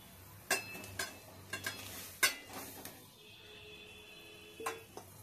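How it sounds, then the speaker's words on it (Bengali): Fried prawns dropped into a simmering gravy in a pan and stirred, giving a few soft clinks and scrapes of a spoon over a quiet bubbling simmer. "গ্রেভি ফুটে গেছে, এবারে দিয়ে দেবো ভেজে রাখা চিংড়ি মাছ"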